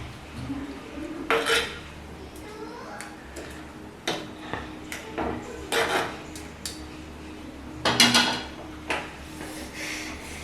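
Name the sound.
mixing fish peera ingredients in a pan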